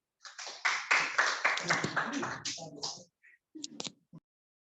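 Audience applause at a breast imaging lecture, a short burst of scattered clapping that dies away after about three seconds, followed by a few faint taps and sounds.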